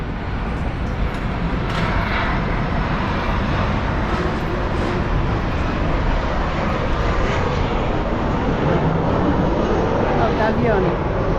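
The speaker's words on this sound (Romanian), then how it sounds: "Avioni." A fixed-wing airplane flies over the old town of Faro, Portugal, its loud, continuous broadband roar filling the whole stretch without a break.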